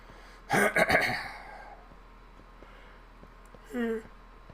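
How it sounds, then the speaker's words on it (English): A person clears their throat in a rough, gravelly burst of a couple of pulses, followed a few seconds later by a shorter voiced throat sound; both are fairly quiet against a soft background hum. "Sorry about having to clear my throat so much"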